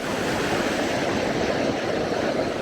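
St Mary Falls in Glacier National Park roaring as a continuous, dense rush of falling water, loud and steady from start to finish with no talking.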